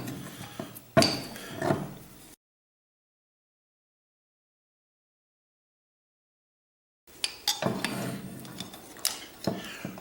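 Metal clinks and scraping as piston rings are pulled off Ingersoll Rand 242 compressor pistons, short close-up bursts of handling noise on either side of a long stretch of silence.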